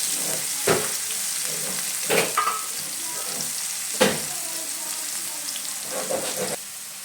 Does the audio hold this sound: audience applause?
no